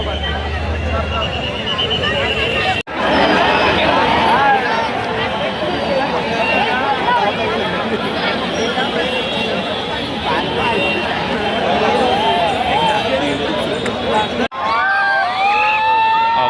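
Dense, loud crowd noise at a Ganpati idol arrival procession in Parel, Mumbai, with shouting, cheering and babble running steadily throughout, briefly cut twice.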